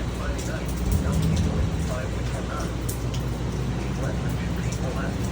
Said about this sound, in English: that's just rain.